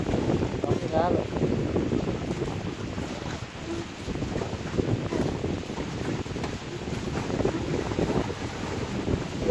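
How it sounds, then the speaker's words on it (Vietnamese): Strong wind buffeting the microphone and choppy water slapping against a small fishing boat on a river, a loud, continuous rushing roar throughout; someone speaks over it. "Cái này cũng như sóng gió vậy bạn"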